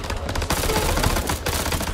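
Rapid gunfire from the video game House of Ashes, a dense, loud burst of overlapping shots filling the whole two seconds with no talk.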